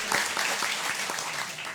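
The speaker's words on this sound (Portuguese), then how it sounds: "Uma salva de palmas para vocês." Brief burst of audience applause at a municipal culture conference in Rafard, dense clapping filling the short moment at moderate volume.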